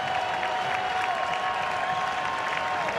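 Stadium crowd at a Tulane versus Oregon State college baseball game, a steady, dense roar of cheering and applause filling the whole moment without a break.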